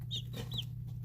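Baby chicks, including a fluffy silkie chick, give a few short high chirps and clucks over a steady low hum, close by and fairly quiet, with no talking.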